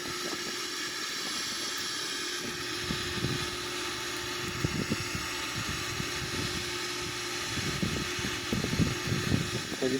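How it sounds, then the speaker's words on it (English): Boeing 777-300ERX jet engines on the climb in a flight simulator game, a steady broad roar with a high whine, heard alone with no talking. "So this is the Boeing 777-300 ERX from the outside."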